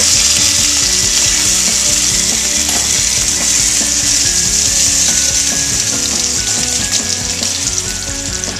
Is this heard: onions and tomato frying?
yes